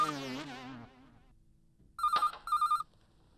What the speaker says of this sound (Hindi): सेठ जी का फोन है।